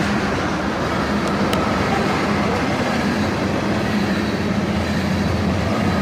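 A BNSF locomotive-hauled train rolls along the line at dusk, a steady broadband rumble and rattle of wheels on rails with a low hum, constant and fairly loud throughout.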